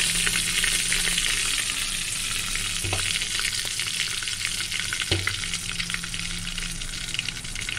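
Chopped tomatoes and green chilies frying in hot oil with cumin and asafoetida, a constant close sizzle with occasional knocks and scrapes of stirring, no talking.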